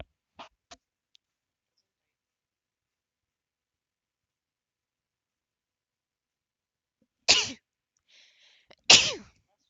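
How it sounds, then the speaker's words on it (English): Two sharp, loud sneezes come about a second and a half apart after a long near-silence, with a few small clicks and faint mouth sounds near the start. "I'm gonna sneeze."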